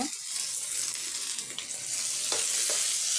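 Onions and tomatoes sauté in a pan for a roadside-style Sourashtra parotta salna, giving a steady sizzle with a few brief scrapes of stirring, close and continuous, with no talking.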